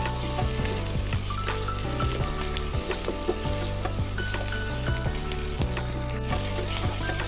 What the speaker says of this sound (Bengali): দেখুন পেঁয়াজটা প্রায় লাল লাল করে ভাজা চলছে